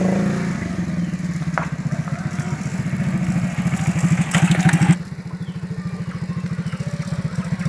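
A motorcycle engine runs close by with a pulsing low throb, rising in a rev before cutting to a steadier idle-like chugging, with no talking.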